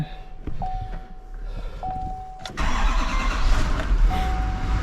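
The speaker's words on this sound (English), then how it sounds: "Turn the power on the truck." A snow plow truck engine cranks and catches midway, preceded by quiet electrical beeps, then settles into a loud, steady idle close by, with no talking.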